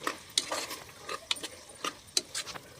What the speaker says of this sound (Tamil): நல்லா கிளறி விட்டுடலாங்க